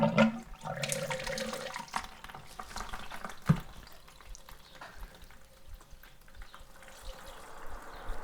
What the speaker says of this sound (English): So I'm just going to drain it off into this other bucket